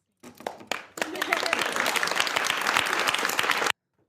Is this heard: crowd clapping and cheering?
yes